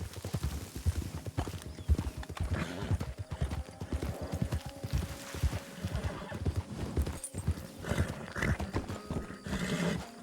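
A horse in the Wild West video game Red Dead Redemption (RedM) trots with steady clip-clop hoofbeats close by, and a whinny breaks in partway through, with faint talk underneath.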